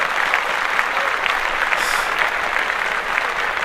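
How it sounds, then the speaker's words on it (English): An audience claps steadily and evenly, a dense, bright patter of many hands sustained throughout without any talk over it. "Now let's clap that."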